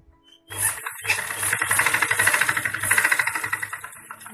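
Sewing machine stitching along the edge of embroidery to attach a lining: a close, rapid mechanical whir with fast rhythmic needle pulses that starts abruptly and runs steadily, with no talk.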